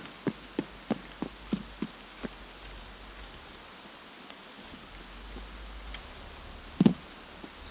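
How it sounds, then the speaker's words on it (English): Steady rain hisses softly in Escape from Tarkov, with scattered drop ticks early on and a brief louder knock near the end, all faint and with nothing else heard. "Nice if it would stop raining."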